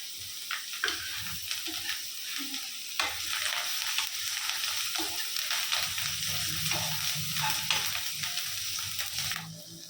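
Curry leaves and dried red chillies sautéing in hot oil for chicken sukka, a close continuous sizzle and crackle with scattered stirring clicks, growing fuller toward the end, no voices.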